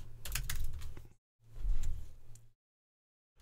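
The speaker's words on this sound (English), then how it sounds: "in the search box, I'm going to type in insert header." Typing on a computer keyboard into a website search box: two short bursts of quick, close key taps separated by silence.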